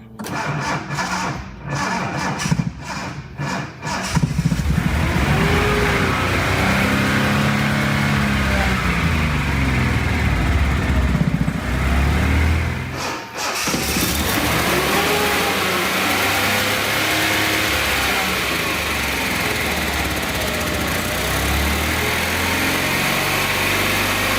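A 1976 Datsun 280Z cranks several times, catches and starts, then runs with rising and falling revs as the throttle is worked, stumbling briefly before settling into a steady, loud idle close by.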